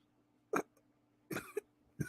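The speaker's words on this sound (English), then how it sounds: "Some coughing, sorry." Three short, harsh coughs spaced apart, fairly close, with quiet room tone between them and no talking.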